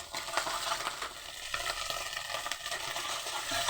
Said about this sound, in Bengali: ডিমটা ঝুড়ো ঝুড়ো করে ভেজে নেব।